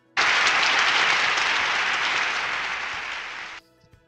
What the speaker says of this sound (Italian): Un forte applauso si alza.